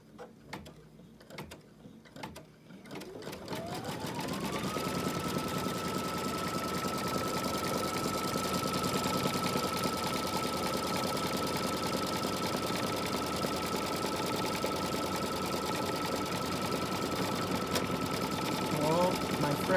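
An embroidery machine stitching an in-the-hoop stocking starts up after a few quiet seconds, then runs in a steady, rapid mechanical chatter with a sustained hum, loud and close throughout.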